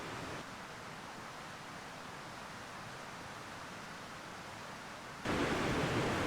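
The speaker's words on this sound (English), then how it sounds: "I slept really good with the white noise here of the river next to us." River flowing beside a wild camp in the Cairngorms, a steady broadband rush of water heard close and constant, growing louder and brighter near the end.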